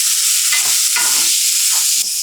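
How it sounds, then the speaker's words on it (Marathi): Finely chopped onion sizzles loudly in a hot mustard seed, cumin and asafoetida tempering on a tava, a dense steady frying hiss with brief scraping stirs, close up and without speech. "मोहरी छान चुटचुटली की जिरं, हिंग, फोडणी छान मिसळूया. आणि आता यामध्ये बारीक चिरलेला कांदा"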